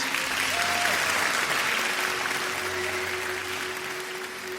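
Applause on a morning radio show, a steady broadband wash of clapping that holds evenly throughout and tapers only slightly toward the end.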